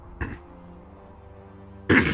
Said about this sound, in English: Coughing in everybody's ear.